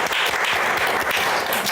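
A church congregation applauds together at an Easter Sunday joint worship service, a steady, dense, loud wash of clapping that fills the whole moment without pause.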